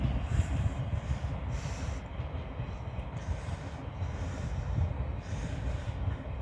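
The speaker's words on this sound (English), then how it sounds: "There's a train coming out of Rochester Station there." A train pulls out of Rochester Station nearby, a low continuous rumble and hiss heard from a distance on an outdoor afternoon walk, steady and moderately faint with no talk.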